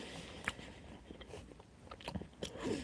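Close-up chewing of a minced meat burger containing bits of bone: wet, crunchy bites and grinding mastication, heard alone without talk.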